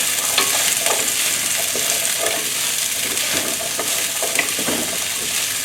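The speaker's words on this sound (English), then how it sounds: "Now's the time we add our celery. Give them a quick toss." Sliced celery stir-fries in hot oil with browned ginger, garlic and red hot peppers, making a loud continuous sizzle with scattered crackles and tossing scrapes, close up and with no talk.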